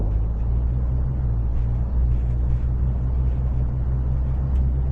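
Steady low engine rumble and road noise from inside a car driving home in Malaysia, continuous and fairly loud with no talking.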